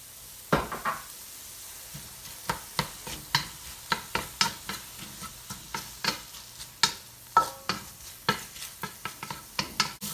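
Vegetables stir-fried in a pan with black bean sauce and soy sauce, a soft sizzle under a long run of quick, irregular scrapes and clacks from the spatula, close and lively.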